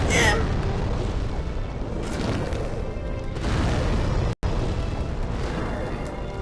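A boss's explosion attack in Demon's Souls, the Glamorous Imp fight in New Game+, bursts out as a sustained booming roar that stays loud for several seconds and is cut by one brief dropout.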